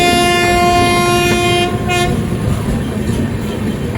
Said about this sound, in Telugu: మొత్తం స్లీపర్ ట్రైన్ అండి ఇది.